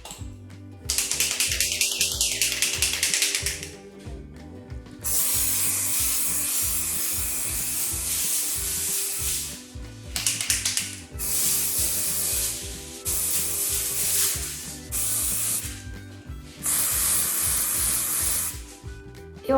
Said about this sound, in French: On agite la bombe et on pulvérise à 25-30 cm de l'entremets.